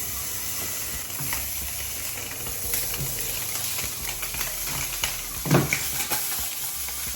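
Spam slices frying in a hot pan over low to medium heat, a steady close hiss and sizzle with small pops and a sharper crackle near the end.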